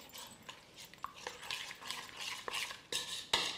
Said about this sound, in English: So give that a stir